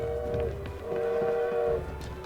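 A train in the video game Assassin's Creed Syndicate sounds two sustained horn or whistle blasts over a rumbling rail bed, moderately loud and fairly close.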